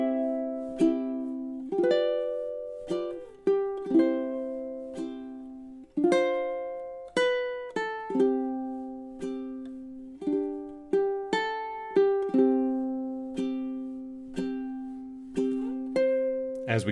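Ukulele plucking measures 17 to 20 of O Holy Night, a solo melody of distinct, ringing notes with clear attacks that decay between plucks, played at a slow, steady pace close up.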